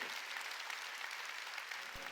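A church congregation at a Sunday service applauds in a dense, steady patter of clapping that runs the full couple of seconds at a moderate distance, with no voices over it.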